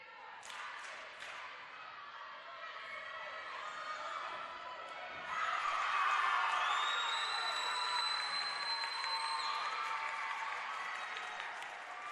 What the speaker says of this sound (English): a round of applause for the Crusaders as they finish the toss